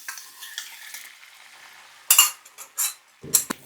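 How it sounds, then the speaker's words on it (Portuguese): A utensil scrapes and stirs mushrooms, celery and sauce in a pan, a few brisk strokes with soft clinks against the metal and a faint sizzle. "Só dar uma pequena misturada."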